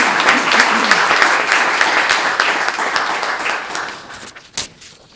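Audience applause at an arts grants press conference, a dense burst of clapping that holds steady, then thins and fades over a few seconds, ending with a last stray clap.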